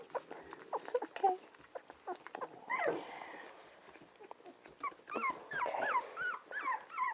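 A puppy whimpers and squeaks in short, high, broken cries while being handled, with soft thumps of movement and a quiet human voice now and then.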